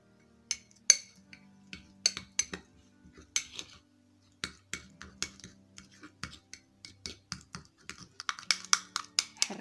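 A spoon tapping and clinking against a bowl while a potato face mask is stirred with rose water: light, irregular clicks, some in quick runs, close and fairly quiet.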